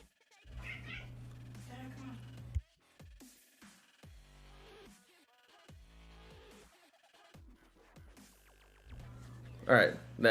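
A cat meows a few times indoors, the calls scattered between pauses and a louder cry near the end, with someone talking intermittently.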